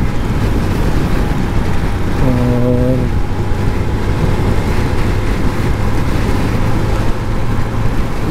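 A Honda CB 150F motorcycle, a 2021 model, cruises in fourth gear along a highway, its engine a steady close drone mixed with wind roar; someone briefly speaks over it.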